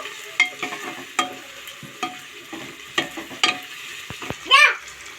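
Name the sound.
ginger garlic paste frying with onions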